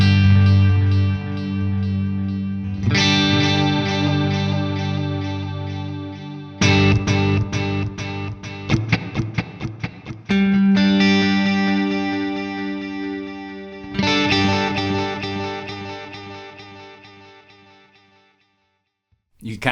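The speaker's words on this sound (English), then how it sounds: "You kind of hear that nice bit of tape warble that is kind of baked into that space algorithm." An electric guitar runs through a Wampler Catacombs delay/reverb pedal set to a single-head space echo with tape warble, giving sustained, wavering, modulated notes and echoing repeats in several phrases, with gaps and a final fade to near silence.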